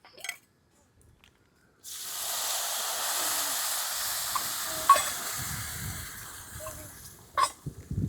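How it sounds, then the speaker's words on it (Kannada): Milk poured into a hot pan of fried vermicelli for a sweet semiya dessert: a sudden broad hissing rush that holds steady for several seconds, with a few clinks and splashes near the end, close and fairly loud, no voices. "ಅರ್ಧ ಲೀಟ್ರ್ ಹಾಲು ಹಾಕೋಣ."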